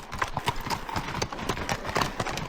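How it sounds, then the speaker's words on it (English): Horses walk along a forest trail in Bald Eagle State Forest, Pennsylvania, their hooves clip-clopping in a steady, uneven rhythm close by, with no talk over them. "Horses, the original form of adventure riding."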